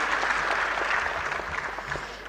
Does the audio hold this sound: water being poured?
no